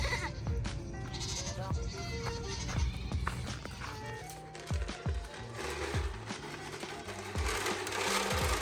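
Nigerian Dwarf dairy goats bleat repeatedly at a milking stand, several close, wavering calls rising over a busy barnyard backdrop with occasional knocks on wood.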